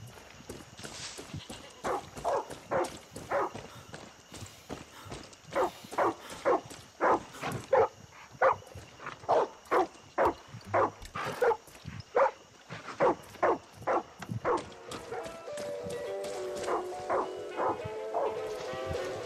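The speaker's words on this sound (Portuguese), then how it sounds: "Mas o cachorro tá latindo" Dog in the video game Far Cry 6 barking repeatedly in a steady rhythm of sharp, fairly loud barks, with game ambience and a brief tonal sound near the end.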